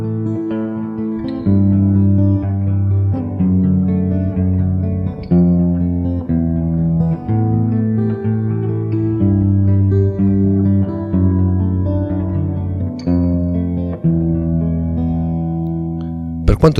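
Guitar arpeggio from a song played as a lesson, a steady loud picked pattern of ringing notes with slight effects and reverb, continuous for the whole stretch without talk.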